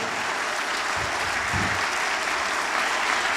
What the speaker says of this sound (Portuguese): Aplauda o Senhor, meu querido.